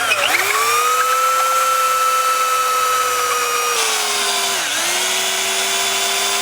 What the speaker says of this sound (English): I guess I'm gonna have to get the big drill.